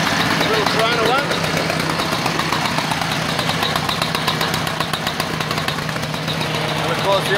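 Several vintage Victa lawn mower engines, including a small 135 and a Corona, idle together in a steady, continuous two-stroke drone with a faint buzzing rattle throughout.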